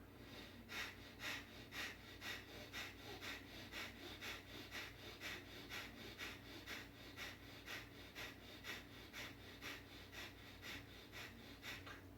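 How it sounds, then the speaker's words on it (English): Rapid, forceful conscious-breathwork breathing, a steady train of sharp sniffing exhalations at roughly two per second that continues evenly throughout at moderate closeness, with no talking. "introducing yourself to this powerful breath by accelerating, breathing out, contraction, contraction, abdomen in"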